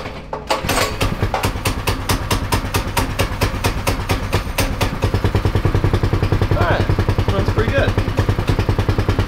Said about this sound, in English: Charles, do you mind cranking me up?